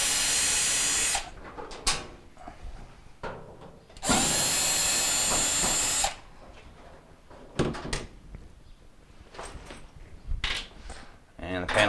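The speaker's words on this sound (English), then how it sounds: "I'm going to go ahead and remove the 2 Phillips screws here" A power drill backs out two Phillips screws from the panel of an unplugged Maytag dryer, two loud whirring bursts of a couple of seconds each, separated by clicks, handling knocks and clatter of the panel.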